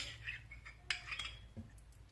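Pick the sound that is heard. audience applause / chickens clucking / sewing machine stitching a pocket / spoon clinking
spoon clinking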